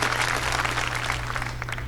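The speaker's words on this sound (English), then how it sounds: "You shouldn't be applauding." Audience applause from a studio crowd at a comedy news show, a steady dense wash of clapping lasting about two seconds with no talk over it.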